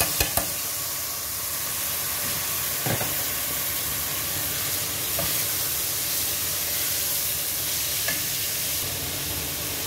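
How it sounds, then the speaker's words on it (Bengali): Lentils tipped into a hot pan with turmeric sizzle steadily, a continuous close frying hiss with a few stirring knocks and scrapes, no talking. "তো আমি এখানে ডালটা দিয়ে দিচ্ছি।"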